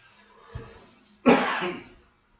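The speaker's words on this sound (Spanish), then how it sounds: "tengo un resfrío con una tos" A soft throat sound, then one sharp, close cough from a person with a cold, trailing off into a breathy tail.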